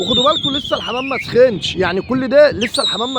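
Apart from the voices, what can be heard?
No distinct noise like a dog, phone or traffic.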